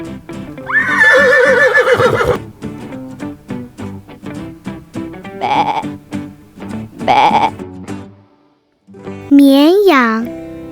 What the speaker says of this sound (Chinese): 马。